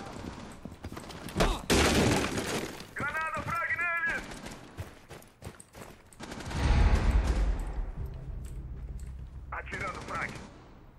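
Gunfire in the Rainbow Six Siege video game, a few sharp shot bursts scattered through the clip with a louder burst midway, heard under ongoing talk and game sounds.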